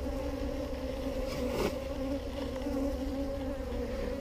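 Honey bees buzz steadily around the frames of a Flow Hive, close by and continuous at an even level, with a brief louder swell partway through as one passes near.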